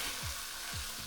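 Sambar ingredients fry in a pan with a soft, continuous sizzle, broken by two quick scraping stirs of a spoon against the pan, quiet and close.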